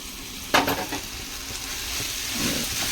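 Ginger, garlic and chopped tomatoes sauté in a pan, a steady low sizzle with one sharp clatter of ingredients dropped in early, then quiet frying hiss building slightly toward the end.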